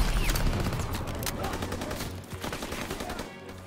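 Dense bursts of rapid gunfire from Call of Duty WWII, with overlapping rifle and machine-gun shots in a loud, continuous battle din.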